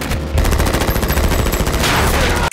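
Heavy gunfire from the movie The Kingdom, a loud, sustained burst of rapid automatic shots with dense repeated cracks lasting a couple of seconds before cutting off abruptly.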